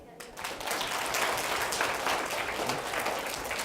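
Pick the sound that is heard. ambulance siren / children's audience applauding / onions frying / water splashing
children's audience applauding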